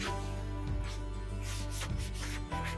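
A fender well brush scrubs under the hood of a car engine bay, a close, continuous rubbing with a few stroke changes over a steady low hum.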